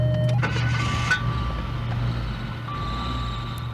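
A 1984 Mazda 626 engine idles steadily after a carburetor repair, a close, continuous low hum with a faint whining tone above it and a brief higher chirp near the start, with no talking.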